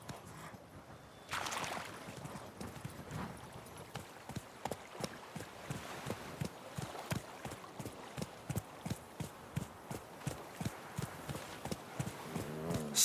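Geralt's horse Roach galloping in The Witcher 3, a fast, steady run of hoof clip-clops, close and clear, over a faint ambient bed with no talk.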